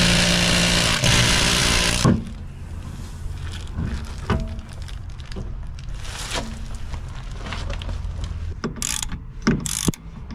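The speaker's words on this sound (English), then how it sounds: "So first thing we need to do is get this wheel off." A ratchet working on a wheel of a Series 1 Holden Commodore: a loud rapid whir at first, then scattered close clicks and clanks of the tool in a garage.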